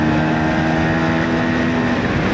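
A 49-year-old Suzuki A100 two-stroke motorcycle engine running steadily, a loud close droning buzz with wind rushing across the microphone, no voices.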